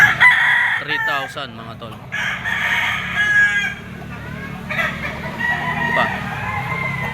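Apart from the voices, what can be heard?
yellow-legged gamecock rooster crowing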